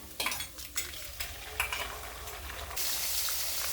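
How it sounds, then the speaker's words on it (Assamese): Onion and egg fry together in a pan for a pasta dish. A utensil stirs with several light scraping clinks, then a loud continuous sizzle rises and holds near the end. "মই কণীৰে সৈতে পিঁয়াজখিনি ফ্ৰাই কৰি ল'ম।"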